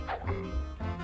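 A few quick, muffled dog barks in a short burst from the Super Nintendo game Bugs Bunny Rabbit Rampage, sounding slightly synthetic and close.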